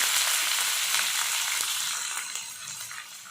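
Sliced red onions fry steadily in a pan, a dense, close sizzle that holds level throughout and fades slightly toward the end, with no talking.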